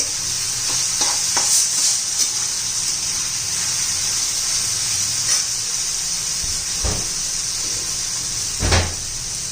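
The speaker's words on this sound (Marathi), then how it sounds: "त्याच्यामध्ये जिरं मोहरी छान असं परतून घ्यायचे" Cumin and mustard seeds sauté in hot oil with a steady bright sizzle and hiss, broken by a few sharp pops and utensil knocks, close by and continuous.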